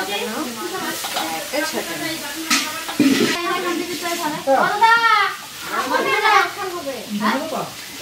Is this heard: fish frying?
yes